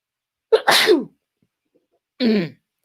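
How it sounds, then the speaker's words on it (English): Two sharp sneezes, the first a quick double burst and the second a moment later, loud and close with silence between. "Got some sneezes on the way."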